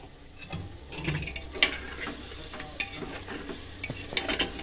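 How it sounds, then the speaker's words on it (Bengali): Tomato and spice masala stirred in a pressure cooker for chicken pulao, with a spoon scraping and clinking against the metal pot in irregular strokes over a soft sizzle, close and clear, no talk. "ভালোভাবে মিক্স করে নিচ্ছি, এটিকে ভালোভাবে কষিয়ে নিতে হবে।"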